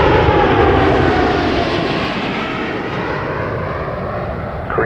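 An Air Canada heavy jet coming in to land on runway 24 left at Toronto Pearson Airport gives a loud, steady engine roar that fades slightly as it passes, with no talk.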